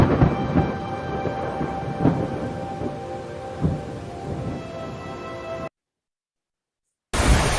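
A steady rain-soaked storm with low rolling thunder rumbles at a distance, a few heavier booms, then a brief silence before the storm returns.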